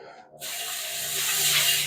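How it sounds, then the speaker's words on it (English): Water bursts from a hose into a chicken defeatherer in a loud, steady hissing spray after a brief quiet moment, continuing without pause. "So we just kind of grab a hose, spray in there"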